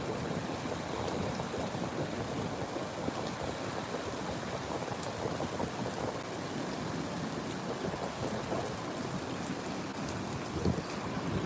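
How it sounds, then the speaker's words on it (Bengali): Steady, heavy rain pours without pause on Cox's Bazar beach, a dense hiss of drops drumming on surfaces with a faint low rumble underneath. "আমি দেখতে চাই বৃষ্টির লাইনগুলো একটু লাইন লাইন করে কীভাবে বৃষ্টি পড়ছে"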